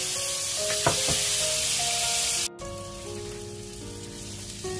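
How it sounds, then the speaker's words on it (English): Marinated prawns fry in a very hot pan with a loud, steady hiss and crackle, a couple of sharp pops early on, then a sudden drop to a quieter sizzle. "Add the marinated prawn into the pan and fry it for 1 to 2 minutes."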